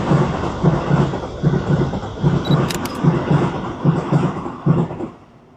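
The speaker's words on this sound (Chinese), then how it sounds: "大家都知道日本的电车很多拍一张电车" Commuter train passing along a Tokyo street, a loud, near rumble with steady rhythmic clacks from the wheels on the rail joints, fading out at the end.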